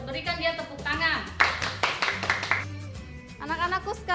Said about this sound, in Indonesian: Ayo kita berikan dia tepuk tangan.